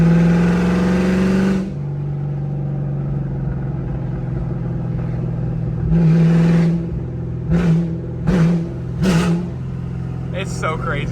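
Ford Mustang with a chopped exhaust, throttle blipped lightly, giving a loud deep rumble that swells in several short bursts over a steady idle, with someone talking over it.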